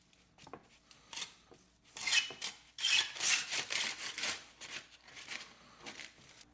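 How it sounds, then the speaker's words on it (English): Knife slicing into a smoked roast beef, giving irregular scraping, rasping strokes that build in bursts and fade, close and fairly quiet, with no speech. "I want to cut into it and see what we're looking at"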